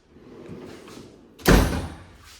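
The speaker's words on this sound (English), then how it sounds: "when they open these drawers and they close them" A metal drawer on a Harbor Freight ICON tool chest slams shut with one loud, sharp thud after a soft sliding rumble, close by and with no voices.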